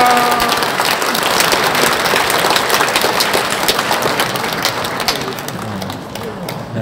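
Loud applause from a crowd at an outdoor Catholic mass in Andong, a dense wash of clapping that runs for several seconds and gradually thins toward the end.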